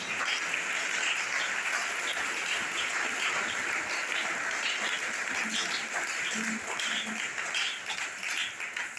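Church congregation applauding God during a Sunday service, steady sustained clapping from many hands filling the room at even loudness throughout.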